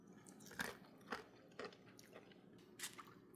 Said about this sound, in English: Because they're crunchy. See if you can hear this.